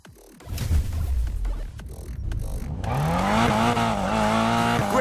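In Need for Speed Payback, a car on a drift run revs hard, and its engine climbs into a loud, sustained whine with tire squeal. Thumps and rumbles come first.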